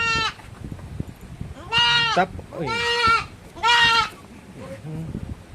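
Several goats bleat in short wavering cries, close by, with a few brief pauses between calls.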